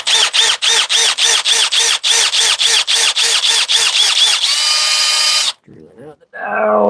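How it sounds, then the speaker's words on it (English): A power drill bores out pounded-in dough in rapid on-off bursts, a loud, close whine pulsing about a dozen times before a longer continuous run, then it stops and a voice briefly follows. "Drilling out the dough that I just pounded in because it ain't working"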